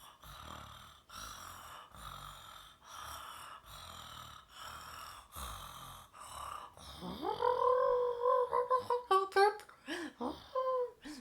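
A series of low, rhythmic gurgling grunts repeats, then turns into higher squeaky croaking calls near the end, close and moderately loud.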